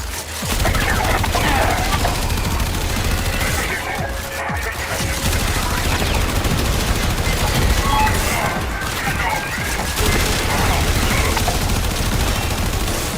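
A loud fusillade of gunfire comes after a danger-close fire order. Dense overlapping shots and bursts of machine-gun fire roll on continuously for over ten seconds, and voices may be mixed in.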